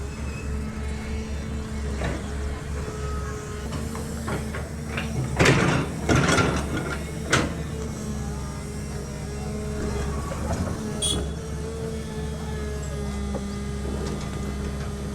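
Large construction machines work at a city overpass site in Rajshahi, a steady engine drone with clanks and scraping bursts mid-way, heard at moderate distance under outdoor ambience.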